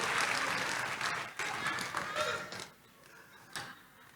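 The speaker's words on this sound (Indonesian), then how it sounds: "kasih tepuk tangan dong buat Tuhan Yesus" A church congregation breaks into loud applause that fades after a couple of seconds, leaving a quieter room with a few stray claps and a voice speaking.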